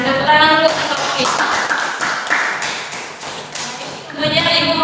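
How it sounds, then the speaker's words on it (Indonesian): A classroom of students applauding a classmate, a dense wash of clapping under a teacher's voice, fading mid-way and swelling again at the end. "Tepuk tangan dulu untuk Taufik."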